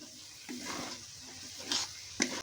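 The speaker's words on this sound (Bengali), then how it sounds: "এবার এটাকে ভালো করে আমরা একটুখানি নাড়াবো।" Stuffed potol filling being stirred in a pan over medium flame, soft scraping strokes over a low continuous sizzle, with a couple of sharper clinks near the end.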